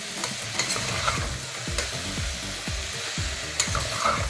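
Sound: frying eggplant pieces with ginger garlic paste

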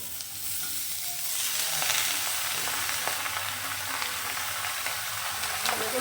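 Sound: ridge gourd added to fried onions, frying in pan

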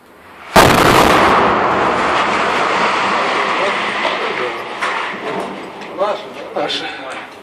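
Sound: artillery shelling of Avdiivka

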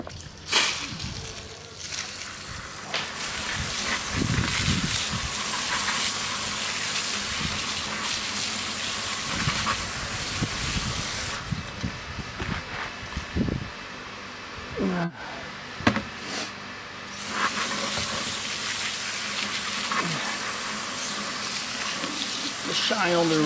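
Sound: water running to rinse a wheel

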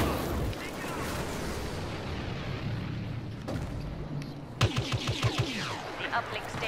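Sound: gunfire at an X-Wing in Star Wars Battlefront video game

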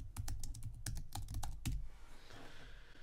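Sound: typing a password on a computer keyboard

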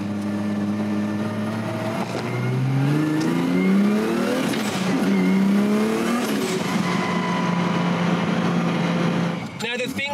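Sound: RB26 Nissan Skyline R32 single-throttle engine driving on back streets

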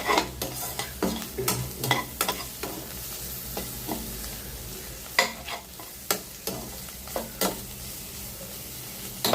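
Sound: sautéing vegetables in a pan

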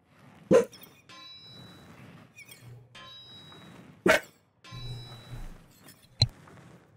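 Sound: dog barking in the video game Wartales

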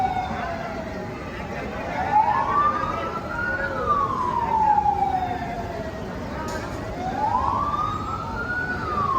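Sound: ambulance siren in a narrow lane

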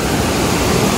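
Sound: small waterfall and stream water

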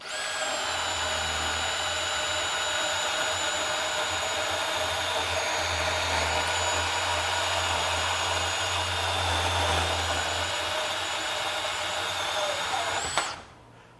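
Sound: DeWalt DCS377 compact band saw cutting one inch steel tubing

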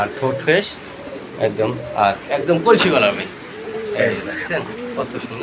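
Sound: Golla pigeons cooing

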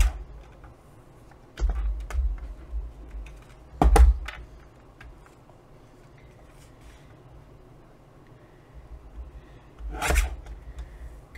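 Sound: cutting fabric pieces on a trimmer

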